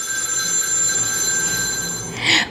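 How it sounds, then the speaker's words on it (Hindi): A landline telephone bell rings in a house in Darjeeling, a loud, steady metallic trill that swells into a brighter burst at the end. "फ़ोन की घंटी बजती है।"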